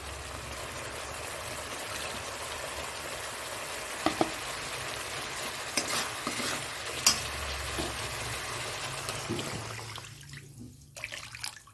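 Water poured into a hot pan of Bengali fish curry, a continuous hissing sizzle and bubbling with occasional clinks of utensils, fading quieter toward the end; nobody talks.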